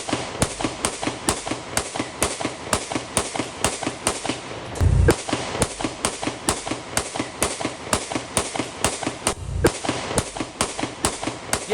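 Repeated gunshots ring out in rapid, uneven bursts during a shooting at AP Dhillon's house in Vancouver, sharp cracks spaced closely over several seconds, with a couple of heavier booming thuds among them.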